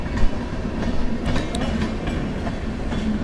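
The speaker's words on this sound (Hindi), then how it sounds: "ऊपर मेट्रो चल रही है, नीचे ट्रेन चल रही है।" A local train runs along tracks beneath an elevated metro line between Gurugram and Delhi, a close, continuous rumble with rhythmic wheel clatter and a few sharp metallic clicks, with no voices.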